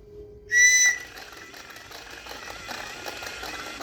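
A whistle gives a single loud shrill blast of about half a second as part of a mechanical dragon toy demonstration. Steady mechanical whirring continues underneath and afterward.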